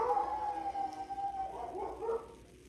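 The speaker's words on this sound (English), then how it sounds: "that's my dog." A pet dog howls indoors, one drawn-out wavering howl that rises and bends in pitch before trailing off, fairly close and loud.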